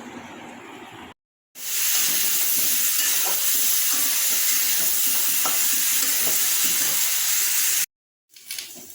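Vegetable chorchori of papaya, potato and pointed gourd frying in a pan, with a steady loud sizzle and hiss and occasional scrapes of stirring, the sound cutting out briefly near the start and end.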